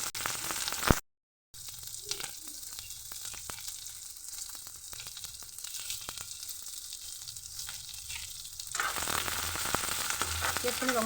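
Chopped onions fry in a pan with panch phoron and bay leaf, a steady crackling sizzle interrupted by a brief silence near the start, growing louder and brighter toward the end.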